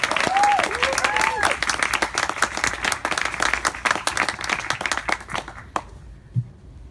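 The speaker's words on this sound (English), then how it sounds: "So can we give Christina like a huge round of applause, please?" Audience applause at a literary reading event, dense clapping filling the room for several seconds, with a voice briefly audible over it, then fading into near quiet toward the end.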